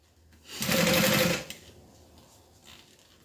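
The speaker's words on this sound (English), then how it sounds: "I'm going to go ahead and just sew down the other side." A sewing machine stitches down a quilted fabric strap in one brief, close, rapid burst lasting under a second, followed by quiet handling noises.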